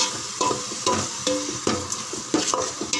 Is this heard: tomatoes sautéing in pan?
yes